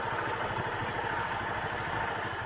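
A motorcycle engine idles with a steady low chugging rumble and light mechanical clatter, close and continuous throughout, with no talking.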